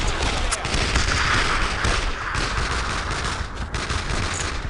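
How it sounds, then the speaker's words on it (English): Machine gun fire in the World War II video game Brothers in Arms: Road to Hill 30, a dense, continuous loud rattle of rapid shots with booming layers, unbroken through the whole span. "That machine gun's opening up."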